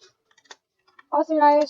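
Computer keyboard typing during a network device configuration lab: a few sparse, quiet key clicks followed by a short burst of speech.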